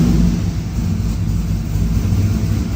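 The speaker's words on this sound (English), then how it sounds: "Let's fire it up, see what happens." A turbocharged 6.0 AWD Chevrolet Silverado engine runs with a loud, steady low rumble, close by and with no voices.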